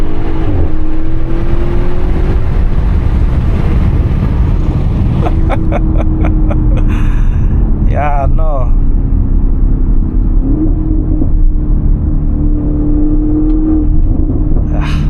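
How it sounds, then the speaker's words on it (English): A loud, deep exhaust from a 2017 Audi RS6 (C7) with an Audi Sport titanium exhaust rumbles and revs continuously up close, its growl rising and falling, with a brief spoken remark partway through. "See, I love cars that sound good. Cars that have so much emotion from the exhaust."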